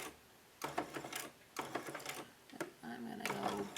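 A sewing machine stitches backward over the pleat edge of a homemade protective mask in several short bursts separated by pauses, fairly quiet and close, with handling noises between runs.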